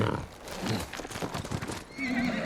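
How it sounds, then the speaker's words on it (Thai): A horse in the samurai game Ghost of Tsushima gives a loud whinny, then its hooves clip-clop in a quick galloping rhythm before a second neigh rises at the end. "เราจะขี่ม้าไปแล้วกัน"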